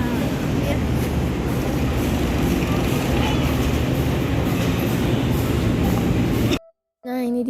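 Loud, steady rumble of a train at Surabaya Kota station with broad mechanical noise throughout, then an abrupt cut to near silence before a brief sound returns.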